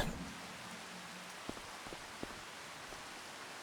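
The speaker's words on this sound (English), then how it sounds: "I'm still gonna wait until the rain stops" Rain falls steadily on a farm, making a soft, even hiss with a few sharper drips landing nearby.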